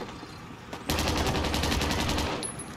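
Sustained automatic gunfire in the video game Call of Duty: Warzone: after a few faint shots, a loud rapid burst of evenly spaced rounds kicks in and rattles steadily for nearly two seconds.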